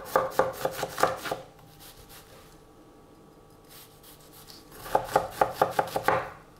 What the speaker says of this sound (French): On va même le hacher, l'oignon, tiens, comme ça